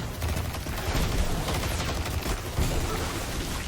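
Strand weapon gunfire in the video game Destiny, played on a Threadling Warlock build: dense, sustained shooting with overlapping bursts and thuds filling almost four seconds at steady loudness, no talk.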